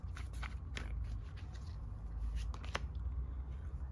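Tarot cards are shuffled and drawn by hand, giving soft, close riffling and crisp card snaps at an irregular rhythm over a low background hum, with no talking.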